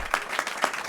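Applause at a Louisiana committee hearing on an abortion bill: a brief burst of hand claps in a few distinct slaps, moderately loud, with no talking.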